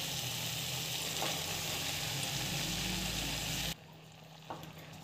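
Soaked poha sautéing in a pan sizzles with a steady bright hiss and the faint scrape of stirring, close and constant, then cuts abruptly to near quiet before a soft stirring touch.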